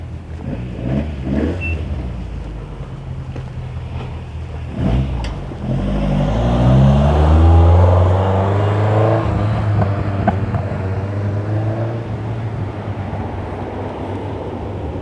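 A Toyota 86 sports car rolls into a morning car club meet in Irvine, California, its engine rising in a loud revving sweep nearby, then settling into a steady idle drone.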